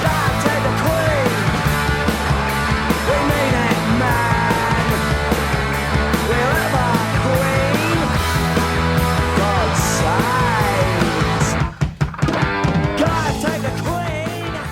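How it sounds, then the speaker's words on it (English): A Gibson Les Paul Custom electric guitar overdubbed onto itself about twenty times, played in 1977, gives a thick, loud, sustained wall of heavy rock guitar with band backing, briefly broken near the end. "He's playing a Gibson Les Paul custom that has been overdubbed onto itself around 20 times to get that thick, heavy sound"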